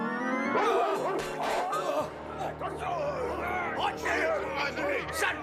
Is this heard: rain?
no